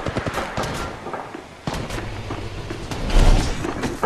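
Gunfire in the Apex Legends Mobile video game, a burst of rapid shots and impacts layered with game effects, loud and close, with a heavier volley near the end.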